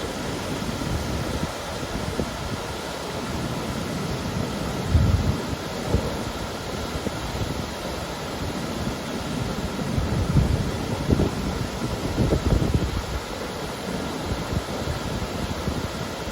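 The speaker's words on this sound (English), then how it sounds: "I'm going to show you the flow and the sound of the falls" Continuous broadband rushing of falling water, steady and enveloping with occasional low surges, no voices present.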